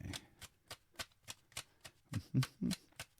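Soft, rhythmic riffling taps of tarot cards being shuffled, about a dozen quick strokes, quiet and close.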